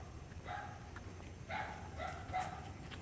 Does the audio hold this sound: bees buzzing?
no